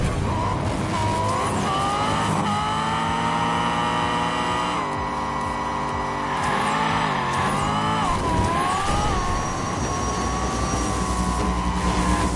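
A race car in the Hot Wheels Unleashed video game screams through tight turns with a loud, sustained engine whine that rises and falls in pitch, mixed with tire skids.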